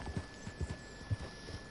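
A horse in Red Dead Redemption 2 walks with steady, soft clip-clopping hoofbeats, muffled and low-pitched over a faint background hum.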